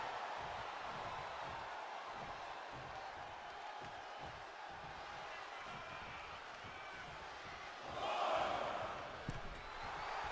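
Arena crowd noise in the WWE 2K25 wrestling video game, a continuous distant roar of a capacity crowd with a brief swell of cheering near the end.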